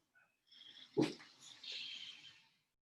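A dog gives a short snorting huff and breathy whine at close range in a quiet room, brief and fairly soft.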